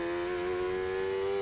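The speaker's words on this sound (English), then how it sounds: "that's when the revs just kind of hang." A 750MC Sports 1000 race car engine holds a steady, sustained drone whose pitch creeps up only slowly as the revs hang, heard from on board, loud and continuous with no talking.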